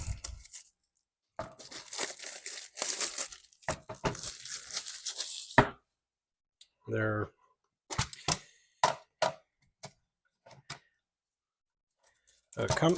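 Packaging of an iCrimp ICP-338 wire stripper kit being opened, with loud bursts of tearing and crinkling plastic in irregular spurts and short pauses, plus scattered handling clicks.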